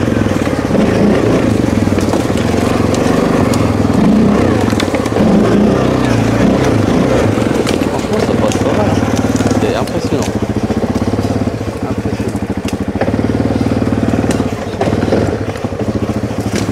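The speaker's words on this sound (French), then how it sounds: "qui passe avec le quad" A Kymco 700 MXU quad bike engine drones loudly and steadily as it climbs a steep slope on rough terrain, with a continuous low rumble throughout and speech over it.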